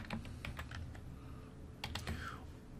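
Quick, light keystrokes on a computer keyboard typing a short word into a Windows search box, two small clusters of close clicks over a faint room hum, with no voice.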